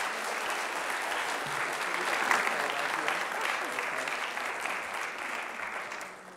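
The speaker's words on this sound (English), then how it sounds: "we want to give Nina another hand" Applause from a live audience at a Miss America STEM event, steady dense clapping from a crowd that swells slightly midway and holds at moderate loudness before tapering at the end.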